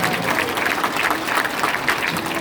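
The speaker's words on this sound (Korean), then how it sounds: "어제 밤늦게까지 멋진 반주를 해주신 우리 선영 사모님께 감사의 박수를 보내주십니다." Applause of thanks from a church education-session audience in a hall, a dense steady wash of many hands clapping at moderate loudness, with no voices over it.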